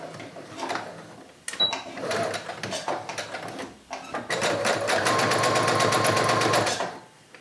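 A sewing machine runs in bursts while stitching a half-inch seam on a tote bag: short stop-start passes, then a steady, rapid, close-up whirring run that stops abruptly.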